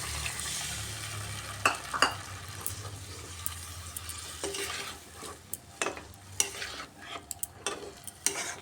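Potatoes and eggs with spices are stirred in a pan, with intermittent scraping and clacking strokes over a soft simmering sizzle, quiet and close.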